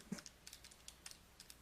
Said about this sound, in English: No, he's tapping on a keyboard.